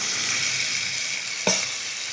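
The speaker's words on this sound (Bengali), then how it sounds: "এটাকে আমি অনেকক্ষণ ধরে কষিয়ে নেব ততক্ষণ না তেল ছাড়বে" Chicken pieces frying in oil and stirred with spice masala in a pan: a steady, close sizzle with one sharp clank of a utensil midway, no voices.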